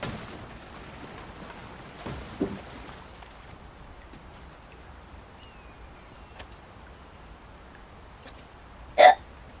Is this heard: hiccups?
yes